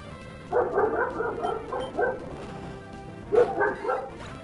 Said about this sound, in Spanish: con los perros tienen que ladrar ahora